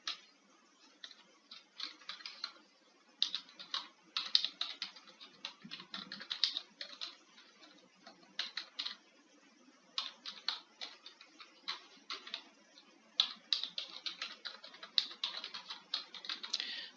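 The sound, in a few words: typing a message on a computer keyboard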